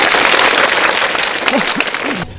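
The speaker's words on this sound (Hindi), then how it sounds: "इनके लिए जोरदार तालियां होनी चाहिए" Loud, close applause from students at a school quiz competition after a correct answer, dense clapping with a few voices calling out over it, cutting off abruptly near the end.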